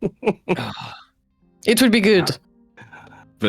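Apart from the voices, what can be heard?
coughing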